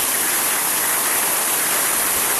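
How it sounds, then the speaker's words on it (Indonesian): Aek Godang waterfall crashing into its plunge area, a dense, steady roar of falling water heard close up and loud, continuous with no voices. "Inilah area jatuhan air terjun"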